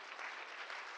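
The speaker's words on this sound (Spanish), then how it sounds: "Hermanos, demos a Dios un aplauso por estas personas" Church congregation applauding during a Sunday service, a brief, soft, evenly spread patter of many hands heard from a distance.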